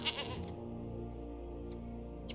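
A goat bleats from the Possessed Goat card in the MTG Arena video game: one short, wavering bleat, followed by a sustained low tone and a couple of faint clicks.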